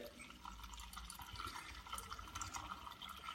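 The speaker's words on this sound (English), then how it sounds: "Open up our drain off facility and just take the pressure off the system." Water draining from a central heating system through an orange drain-off hose, a continuous soft splashing, trickling flow heard close and alone at low level.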